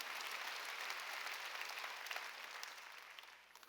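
A Korean church congregation at Sunday worship applauds in a steady, dense wash of clapping that is fairly quiet and distant and fades slightly toward the end.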